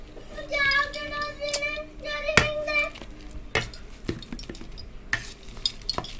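Potato and banana mixture is stirred in a pan, with a spoon scraping and clinking against the metal and a light sizzle underneath, while faint voices sound in the background.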